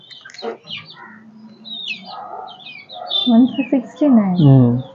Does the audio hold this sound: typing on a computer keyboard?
no